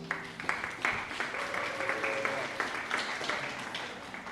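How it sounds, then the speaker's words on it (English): Audience applause at the DFC Carnival 2024 press conference, a sustained, fairly faint patter of many hands clapping steadily across the whole stretch, with a voice briefly audible early on. "Another round of applause for Moxie Shervy"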